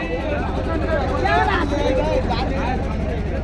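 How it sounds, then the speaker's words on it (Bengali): A boat engine rumbles steadily as the boat pulls away on a Sundarbans waterway, a continuous low drone with people talking over it throughout. "ছেড়ে দিয়েছে নৌকা"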